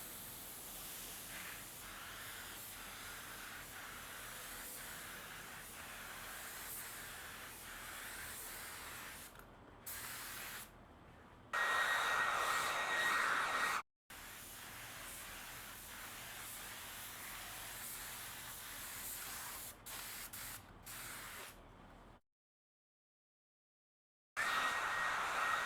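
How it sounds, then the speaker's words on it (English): Spray gun laying light coats of clear coat on a recliner backrest, bursts of steady hissing spray broken by short pauses and one longer silence near the end, close and fairly loud. "Let's put 2 light coats of clear."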